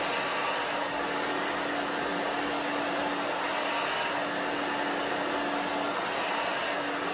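Hand-held hair dryer blowing on hair during a short bob haircut, a steady loud whooshing roar held close and unbroken with no talk over it.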